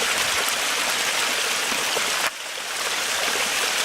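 Water rushing in a mountain stream, a steady loud broadband hiss and gurgle, close and continuous, with a brief dip midway.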